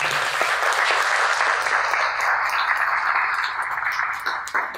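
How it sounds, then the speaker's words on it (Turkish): An audience at a Roma genocide remembrance event applauds, a sustained, dense clatter of many hands that stays loud and even before thinning slightly at the end. "sizlerden bir alkış istiyorum"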